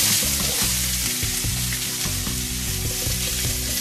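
Chopped onions and curry leaves sauté in a hot pan, sizzling loudly and continuously, with faint stirring scrapes underneath and no one talking.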